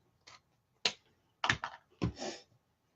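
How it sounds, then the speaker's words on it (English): Scissors snip through a 22-inch length of ribbon for a bow, a few short crisp cuts at close range with brief pauses between them and no one talking. "So I'm going to cut a 22-inch piece"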